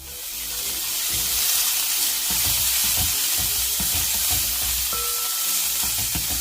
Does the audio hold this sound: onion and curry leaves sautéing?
yes